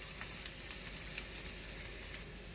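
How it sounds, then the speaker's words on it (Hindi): Garlic roasts in hot oil for Rajasthani mirchi kutta, a steady close crackling sizzle with faint stirring, heard alone at low volume. "तो ये गार्लिक जो है हमारे अच्छे से रोस्ट हो गए हैं, इनका कच्चापन जो है ना वो निकल गया है"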